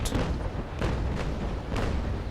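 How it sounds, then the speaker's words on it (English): A sailing ship's cannon broadside in the Naval Action game: a dense, rumbling barrage of heavy booms, with several distinct blasts rolling over one another for the whole stretch. "trying to fire another broadside and shoot."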